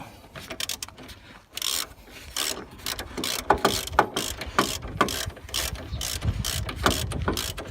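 Ratchet wrench tightening long suspension strut bolts on a Renault Master van, rapid clicking pawl strokes in repeated bursts with metallic rubbing and knocks, close and fairly loud, no talking.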